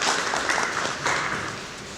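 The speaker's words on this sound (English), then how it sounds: "Can we clap hands for them?" An audience at a business networking breakfast meeting claps hands in a brief wash of soft, diffuse applause that tapers off.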